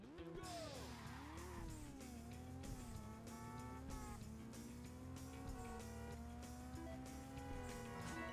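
Racing cars in the Burnout 2: Point of Impact video game, a loud, continuous engine drone with the pitch rising and falling through gear shifts, with tire squeal while cars are passed at close range.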